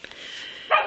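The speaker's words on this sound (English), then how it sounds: "there's my dog barking, of course" A pet dog gives a single short bark at moderate distance indoors, a brief yip-like call standing out after a faint tonal murmur.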